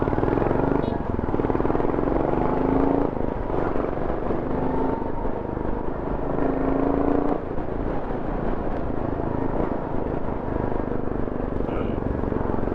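A Royal Enfield Goan 350 Classic custom bobber motorcycle being ridden, its exhaust giving a continuous loud, throbbing engine drone mixed with wind rush and someone talking over it.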